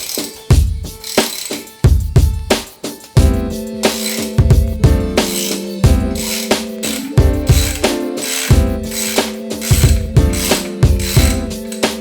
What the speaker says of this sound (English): Undo the front bolt, undo the back bolt